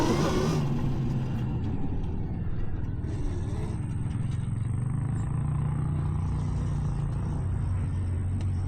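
Converted electric Honda TRX90 ATV off-road, giving a steady high thin motor whine over a low rumble of tires on rough ground, continuous and close.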